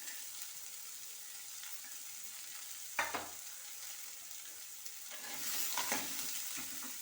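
Garlic dropped into hot oil in a pan while cooking a quick fenugreek and paneer dish: a sudden sizzle burst, soft stirring and scraping, then a louder, steady frying hiss toward the end, close and alone.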